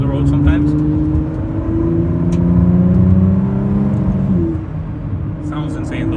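A sports car engine revs and drones loudly from inside the cabin with the windows up, pitch rising and falling, with a voice speaking over it.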